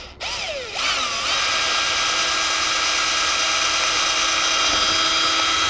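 A power drill whines up to speed and holds a steady high-pitched buzz, drilling into an RC airliner wing, loud and close, with no talking.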